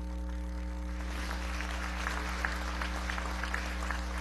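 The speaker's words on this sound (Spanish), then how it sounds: "yo pido un fuerte aplauso y reconocimiento al pueblo turco" Applause rises in a session of the Venezuelan National Assembly, a soft, distant patter of clapping from the chamber over a steady electrical hum.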